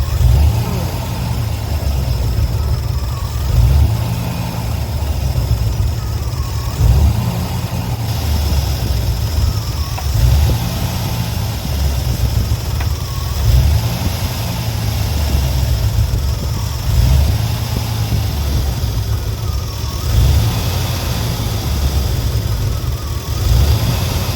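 Engine of a Knight Rider KITT replica car idling with an uneven, surging rhythm while cold, a steady low rumble with periodic swells; people talk over it throughout.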